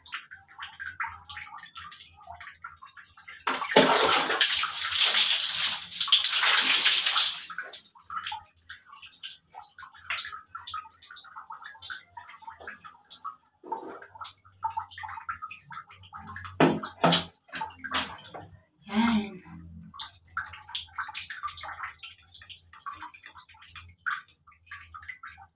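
Water pours in a loud burst as hair is rinsed after conditioner during a bath, then gives way to scattered drips, splashes and light handling noises.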